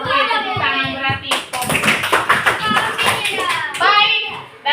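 Schoolchildren clapping together in a classroom coding lesson, a loud burst of claps in the middle of the moment, with a teacher's and children's voices before and after.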